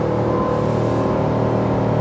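Steady, loud engine drone of a 2023 Sea Ray SDX 290 boat speeding up on the water, a continuous close hum without voices.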